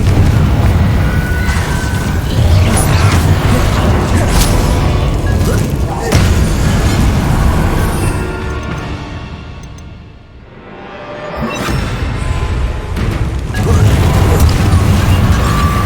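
Magic spells blast and explode in the Hogwarts Legacy video game, a dense, loud run of booming bursts and crashes that fades briefly before surging back, with voices calling out over the fight.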